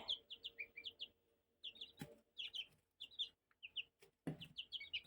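Small chicks and a gosling peep in quick high-pitched bursts, close by, with soft bumps and rustles between calls.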